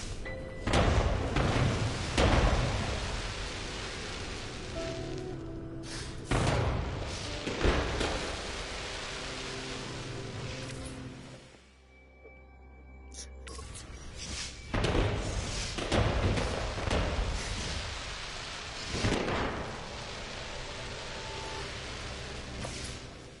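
Fireworks burst in the No Man's Sky video game, a series of loud booming thumps and crackling blasts spread across the stretch, with a brief quieter lull midway before more explosions follow.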